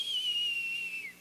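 A person's voice whistles in imitation of an artillery shell flying overhead, one clear, steady, slowly falling tone lasting about a second, close and alone without speech.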